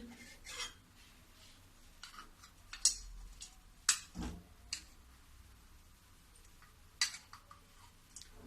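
A spoon stirs jaggery and water in a metal kadhai, making sparse faint clinks and scrapes against the pan at irregular intervals, with no talking.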